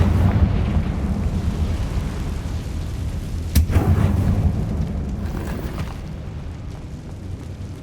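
Confringo spell in Hogwarts Legacy blasting a barricade, heard as a sustained heavy rumbling roar with a sharp explosive crack just past the middle, loud and close, no talking.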